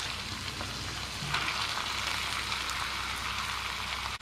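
Beef strips fry in a Balinese spice paste in a pan, a soft, continuous sizzle and crackle close by, with a slight swell partway through and no talk.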